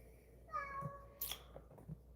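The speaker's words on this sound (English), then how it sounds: "Stop meowing." A pet cat meows indoors, a single close, clear meow followed by a second short, higher cry, with quiet room noise around it.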